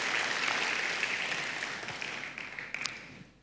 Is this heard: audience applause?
yes